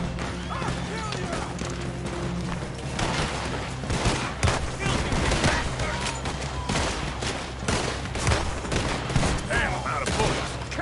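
Rapid gunfire in Red Dead Redemption 2 crackles in dense, loud bursts of overlapping shots, with shouted voices mixed in.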